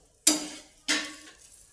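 An aloo paratha goes onto a hot pan, making two sharp sizzling bursts close together. Each starts loud and fades, followed by a faint frying hiss.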